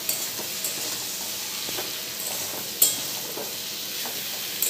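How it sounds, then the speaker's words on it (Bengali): Sliced ridge gourd fries in a pan with a constant close hiss of oil, broken by occasional soft stirring scrapes and one sharper knock. No one speaks. "ঝিঙে কেটে রেখেছি, অল্প অল্প করে ভেজে নিই"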